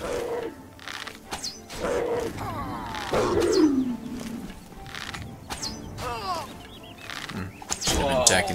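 A tiger- or puma-like big cat snarls and roars in the modded Oblivion game Skyblivion. Several rough, descending growls come in bursts, the loudest in the middle, with someone talking over parts of it.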